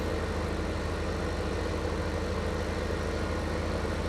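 A tractor engine in Farming Simulator 15 drones at a steady idle with a constant low rumble and no change in pitch or loudness, and no voices are heard.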